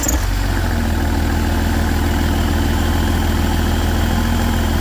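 A car engine fitted with an exhaust valve flap drones at a steady, loud, low rumble for the whole stretch, close by and unbroken, with no clear rise in revs and no voices.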